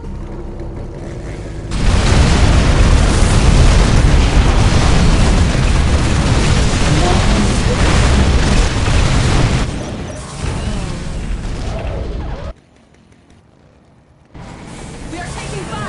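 Explosions and weapon fire roar through an Imperial Guard stronghold battle in Dawn of War Unification's Sisters of Battle campaign, a dense, loud barrage that swells for several seconds, dips, then drops briefly quiet before resuming, with battle voices mixed in.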